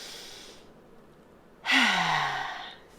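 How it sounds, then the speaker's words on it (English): A single deep breath, a soft inhale followed after a pause by a loud, close exhaling sigh that fades out slowly. "Let's take a deep breath."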